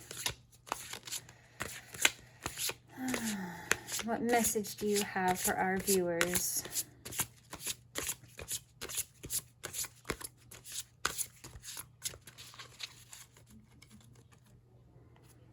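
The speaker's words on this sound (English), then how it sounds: "Getting the shuffle a little bit more." Cards are shuffled in repeated crisp riffling bursts close by, with a person speaking briefly partway through.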